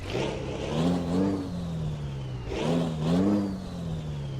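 A Scania R500 truck engine in Euro Truck Simulator 2 revs up and settles twice in a steady rhythm, a smooth synthetic-sounding motor climbing in pitch then idling back down.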